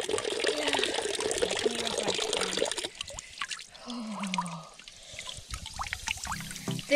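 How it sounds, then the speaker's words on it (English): Fresh spring water on Mount Olympus pours and splashes steadily, loud and close, with a brief lull midway before the flow picks up again; no voices. "This is fresh spring water from the top"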